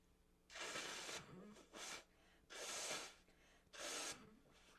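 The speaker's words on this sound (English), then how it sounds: "I need to blow my nose" Three loud, rasping nose blows in quick succession, close to the microphone, separated by brief pauses and a short sniff.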